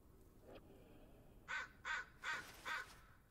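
Crows cawing in the Blair Witch video game: a faint early call, then four loud, evenly spaced harsh caws close by, with no talk.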